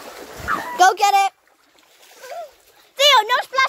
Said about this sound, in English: no splashing the phone